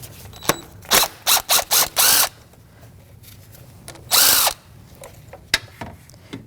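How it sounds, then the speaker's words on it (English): A power tool with a 10mm socket spins out the ignition coil mounting screw on a 2016-2025 Chevrolet Malibu 1.5L four-cylinder engine, loud close bursts of whirring with several short pulses, a longer run, then clicks and handling noise. "that mounting screw right there is a 10mm socket. I'm going to take that mounting screw right off."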